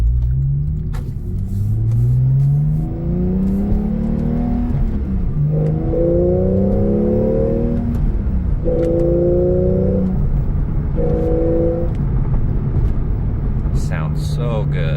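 2014 Porsche 911 Carrera S with manual gearbox, engine rising through several revving pulls with gear shifts between them, close inside the car, with a voice talking over the engine.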